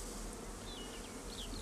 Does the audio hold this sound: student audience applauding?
no